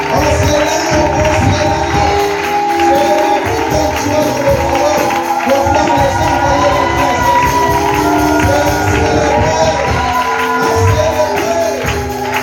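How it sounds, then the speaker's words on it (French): A church congregation at a worship service cheers and acclaims, a loud, continuous roar of many voices with shouting and clapping mixed together and no pause throughout. "On continue d'acclamer."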